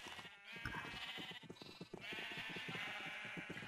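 Sheep bleating in the Minecraft video game, a steady run of repeated game bleats overlapping one another at close range with no talking.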